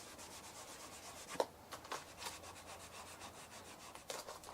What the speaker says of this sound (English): I'm going to take a nice clean cloth. I'm going to clean off those areas really well with the alcohol